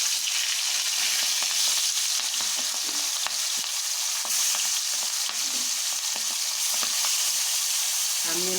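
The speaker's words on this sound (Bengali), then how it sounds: "এবার আমি মাছগুলোতে লবণ হলুদ মেখে ভেজে নেব" Pangas fish rubbed with salt and turmeric fry in hot oil, giving a loud, continuous close sizzle with scattered small pops and crackles throughout.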